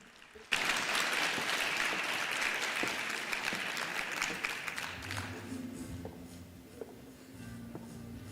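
An audience at a constitutional and supreme courts summit applauds the Chief Justice with a burst of loud, sustained clapping that begins abruptly, then tapers off while a low murmur and faint voices continue underneath.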